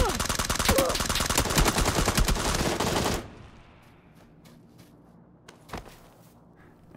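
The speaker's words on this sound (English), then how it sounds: "someone sneaks up on you and just shoots you in the back." Automatic gunfire in PUBG on the Sanhok map comes as a dense, loud burst of rapid shots that stops abruptly. A few faint footsteps and one more distant shot follow in near silence.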